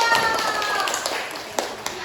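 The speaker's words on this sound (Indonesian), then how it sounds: "Kasih tepuk tangan dulu." Several people clap hands in a classroom of young schoolchildren, a brief scattered burst of claps with a couple of sharper claps near the end, mixed with children's voices.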